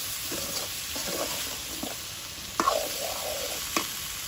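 Boiled taro and potato added to crab in a hot pan, a soft continuous sizzle with scraping stirs and a couple of sharper clatters of the spoon against the pan.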